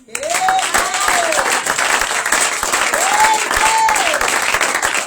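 A church congregation at a prophetic Shavuot conference applauding loudly and continuously, close and full, with a few sliding whistles rising above the clapping.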